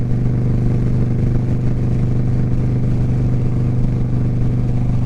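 New Indian Chieftain motorcycle engine running steadily with a deep, throbbing low-pitched idle drone and light mechanical clatter, close and constant, with no talking.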